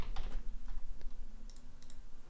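Fingers typing a short chat message on a computer keyboard, a quick run of light, close key clicks in small bursts over a faint steady hum, with no talking.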